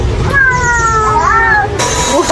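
A close cat lets out one drawn-out, wavering meow that rises in pitch, over a steady noisy indoor background.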